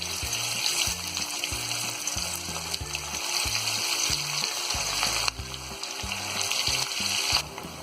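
Fish pieces fry in moderately hot oil in a kadhai, a steady, hissing sizzle that runs continuously beneath rhythmic background music.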